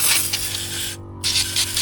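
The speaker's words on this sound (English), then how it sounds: "I've never used this spray nozzle before," Water sprays from a hose spray nozzle at a flood-watch truck campsite in loud, close hissing bursts that stop briefly, then resume in pulses over a low hum.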